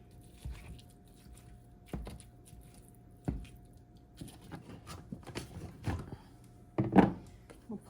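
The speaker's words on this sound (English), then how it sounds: "So we're gonna cut into the sausage." Knife slicing into a sausage on a board, with a handful of soft, spaced thunks as the blade meets the surface, close and quiet with no talking.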